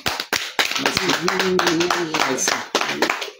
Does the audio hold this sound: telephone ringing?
no